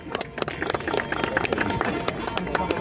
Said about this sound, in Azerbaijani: Alqışlar, alqışlar gəlsin